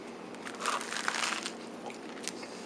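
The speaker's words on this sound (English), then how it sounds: "That crunch is killer, man." Crunchy bites and chewing of a Cuban hamburger, a frita cubana topped with a mound of crispy bits, close crackling crunches in a few quick bursts with no speech.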